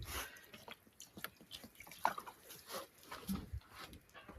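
Water drips and trickles off a freshly washed car body coated with ceramic wax, faint scattered drops tapping irregularly in a quiet outdoor setting.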